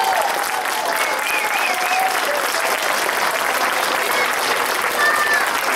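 Applause for the players of a local football club at a town festival fills the whole stretch as steady, dense clapping from a crowd, with faint cheers and a voice now and then underneath.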